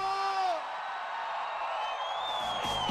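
A concert crowd at a Club da Saudade dance show at Metrópole City Hall roars and shouts on request, a continuous loud wash of voices with whoops rising over the end.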